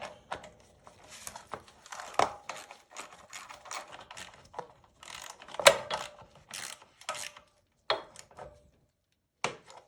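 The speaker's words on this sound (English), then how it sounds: "The ratchet." Ratchet clicking as bolts are snugged down on a Ryobi pressure washer under repair, delivered in short irregular bursts of close mechanical ticking with brief pauses between strokes.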